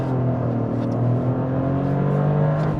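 A Toyota GR Corolla engine drones steadily while driving, a loud even hum with a slowly rising tone and no voices over it.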